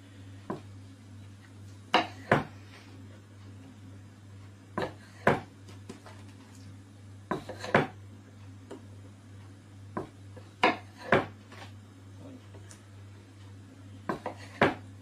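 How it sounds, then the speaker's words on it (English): Tomatoes are chopped and quartered on a board and tossed into a bowl for moussaka, giving scattered sharp knife taps and clunks in irregular clusters over a steady low kitchen hum. "just chop them and then quarter them and chuck them back in the bowl"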